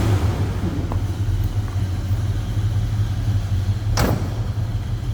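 A 1969 Pontiac GTO The Judge with its 400 V8 idles from a cold start, a steady, close low rumble with one brief click partway through.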